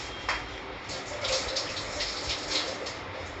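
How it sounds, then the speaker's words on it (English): Water runs and splashes as a cooking utensil is rinsed in a home kitchen, a steady close gush with a few brief louder surges. "Okay, I'll just wash."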